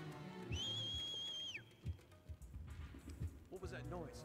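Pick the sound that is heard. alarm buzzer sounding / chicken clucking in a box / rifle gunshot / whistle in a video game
whistle in a video game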